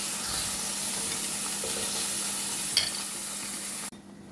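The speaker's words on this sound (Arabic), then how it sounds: "غادي نستمر بحال هكا حتى يطيب عندي الستيك" Steak fries in a pan, a steady even sizzle with a couple of faint stirring clicks, ending abruptly near the close.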